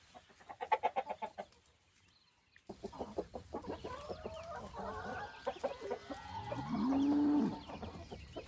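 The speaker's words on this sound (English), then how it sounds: "these chickens are loving this fresh grass this morning" Farmyard chickens clucking while feeding on fresh morning grass, with a cow and other livestock close by; a run of rapid clucks at the start, then overlapping calls and a longer lowing moo near the end, no talking.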